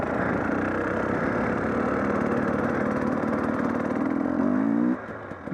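A dirt bike engine runs steadily and loudly while being ridden over rocky ground, rising in a brief rev toward the end before the note drops away, with no talking.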